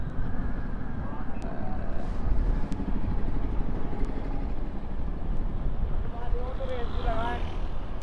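A Yamaha R15 v2 motorcycle rides at speed, its engine drone blending with constant wind rush against the microphone throughout, with a voice briefly audible near the end.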